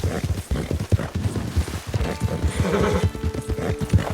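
A horse neighs and its hooves clip-clop steadily in a snowy winter endurance race in Red Dead Redemption 2, with rhythmic hoofbeats running throughout and a whinny rising near the end, loud and close.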